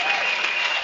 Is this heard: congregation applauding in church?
yes